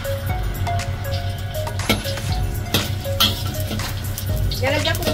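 Ginger frying in oil in a wok for pork knuckle sinigang, a steady sizzle with clinking of a utensil against the pan and stirring, heard close and under a voice talking.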